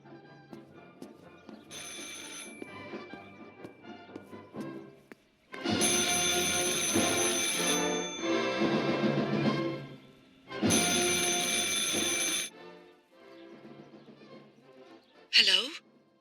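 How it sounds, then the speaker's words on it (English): An old-style telephone bell rings in the game Martha Is Dead, loud repeated bursts of ringing separated by pauses, with a quieter musical ambience between rings. "I should pick up the phone but remain silent."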